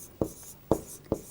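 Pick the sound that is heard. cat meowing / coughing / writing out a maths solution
writing out a maths solution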